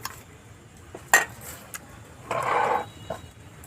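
A metal grill rack set down in a kitchen while preparing chicken tandoori: a sharp metallic clink, a few lighter taps, then a brief scraping rattle, all close and fairly quiet.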